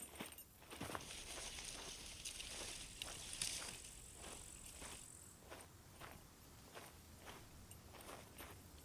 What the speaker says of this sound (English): I just heard a footstep.